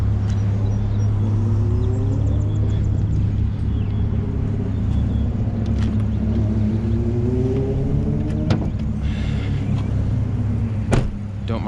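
An APR-tuned Audi S4 V6 engine runs steadily with a deep, continuous low rumble and some rising tones, plus a few clicks and knocks nearby, and faint voices mixed in.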